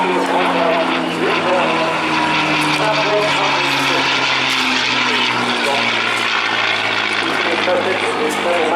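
A North American P-51D Mustang flies past at an airshow, its piston engine droning loud and continuous with a slowly shifting pitch throughout, no voices over it.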